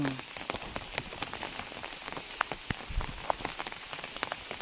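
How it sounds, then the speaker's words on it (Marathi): Steady monsoon rain in Konkan pattering on a surface, continuing for days, with scattered louder drops tapping irregularly throughout. "तीन दिवस कंटिन्यू पाऊस चालू आहे"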